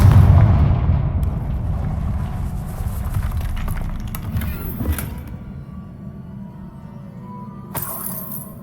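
Confringo blasting spell explosion in the Hogwarts Legacy video game: a heavy rumbling blast that fades over several seconds, followed by a few crackling hits and a sharp bright burst near the end.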